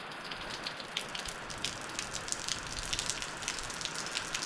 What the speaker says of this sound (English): being that it's raining